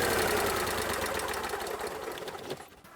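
An RV generator engine runs with a loud, close, rapid mechanical chugging and buzz that gradually fades as it winds down over three seconds, with no talking.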